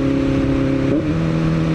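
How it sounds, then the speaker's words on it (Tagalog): A motorcycle with a quick shifter holds a steady engine drone. Near the middle, an automatic blip on a gear change makes the pitch jump and then settle lower, loud and close, with no talking. "Ganda ng auto blip."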